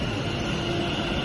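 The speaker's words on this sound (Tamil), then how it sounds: "மெட்ரோ இங்கிருந்து போயிடுச்சு" Metro train pulling away from a station, a steady close rumble of wheels and carriages with a faint high whine, continuous and fairly loud with no voices.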